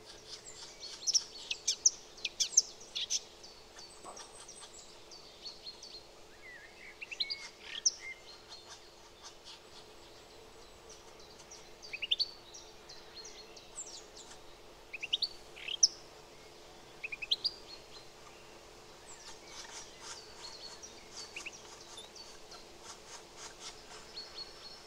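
Green woodpecker nestlings in a tree hole in Poznań's Naramowice district give a series of thin, high chirping calls in irregular bursts, faint to moderate and fairly close, over a quiet outdoor background.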